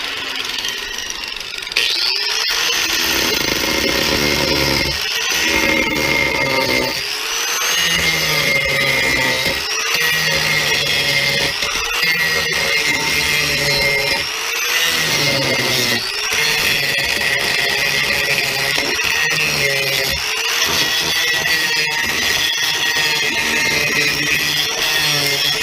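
A diamond-tip angle grinder blade grinds a notch for a solar mounting hook, a loud continuous harsh whine lasting the whole stretch, with repeated dips and swells as the blade is pushed in and eased off.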